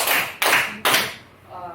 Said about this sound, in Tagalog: Okay, mahusay. Bigyan ng tatlong palakpak si Mikaela.